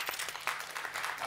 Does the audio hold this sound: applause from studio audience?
yes